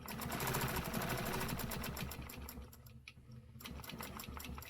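A sewing machine stitches a half-inch line on a border, a fast, close mechanical rattle that runs steadily, pauses briefly near the middle, and then resumes.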